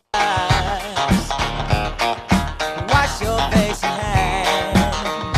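A funky, percussive keyboard riff with punchy, stabbing chords over a driving beat, loud and continuous throughout.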